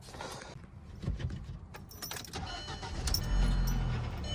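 A 2004 Volkswagen Passat after sensor and vacuum valve repairs, with keys jangling and the engine starting up into a low steady idle, close by.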